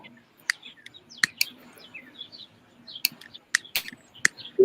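Wild birds singing around backyard feeders, sharp scattered chirps and short tweets popping out at irregular intervals over a quiet outdoor background, moderately near, with no talking.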